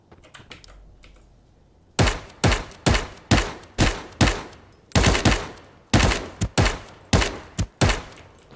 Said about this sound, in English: You could see those bullets sort of arcing a little bit as I shot them from far enough away